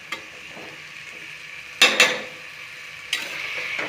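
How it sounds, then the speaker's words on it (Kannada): Tomato rice simmering in a pot while a utensil stirs the soft tomatoes, a steady low sizzle broken by a few sharp scrapes and clanks against the pot, close up with no talk. "ಇದನ್ನು ಒಂದ್ಸರಿ ಕೈ ಆಡಿಸ್ತೀನಿ. ನೀಟಾಗಿ ಸ್ವಲ್ಪ ಟೊಮೆಟೊ ಎಲ್ಲ ಮೆತ್ತಗಾಗಲಿ."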